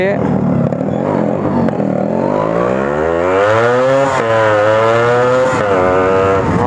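A well-maintained Yamaha RX two-stroke motorcycle revs up close and loud, its buzzing note sweeping upward, dropping sharply, then climbing again in repeated throttle blips.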